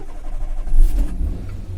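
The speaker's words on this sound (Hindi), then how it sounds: "तो गाड़ी को ऑन कर लेते हैं इसको।" A 2009 Maruti Suzuki WagonR's engine starts up close by, a short cranking burst settling into a steady low idle hum, loud and with no speech.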